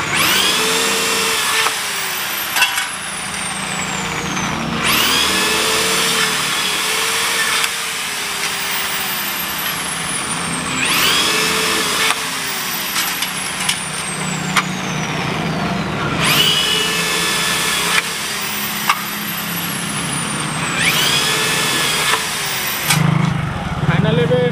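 Electric drill boring holes to fit a vehicle number plate, loud whining bursts that rise and stop several times in a row, with people talking between them.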